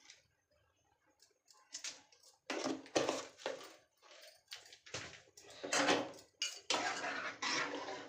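A metal spoon scrapes and clinks against a cooking pot while about a spoonful of salt is stirred into a simmering dish, in irregular close bursts separated by short pauses.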